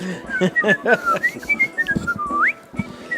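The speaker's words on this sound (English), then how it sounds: "So back to the Mickey Mouse whistle." A person whistles a Mickey Mouse tune, a lively run of clear notes with rising slides, loud and close, with brief voice-like sounds mixed in.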